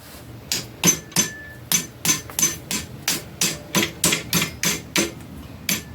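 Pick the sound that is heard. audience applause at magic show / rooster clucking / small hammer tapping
small hammer tapping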